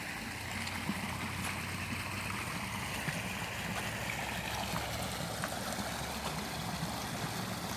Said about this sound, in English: That's an impressive amount of water coming from up there.